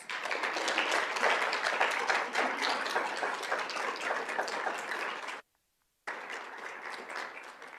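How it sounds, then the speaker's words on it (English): Applause from an audience at a school board meeting in honor of a teacher, steady clapping for several seconds, then a short silent gap before clapping resumes. "she deserves a huge round of applause."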